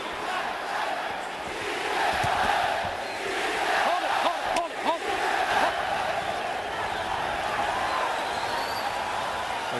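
A boxing crowd roars through a bout between Kostya Tszyu and Julio Cesar Chavez, a loud sustained swell of cheering and shouting that surges midway, with a commentator's voice mixed in.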